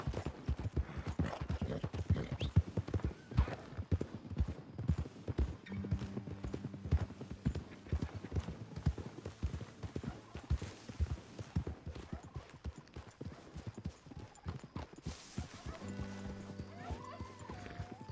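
Horse hooves clip-clop steadily in Red Dead Redemption 2, with neighs and whinnies breaking through and a dog barking briefly, the hoofbeats close and continuous alongside game music.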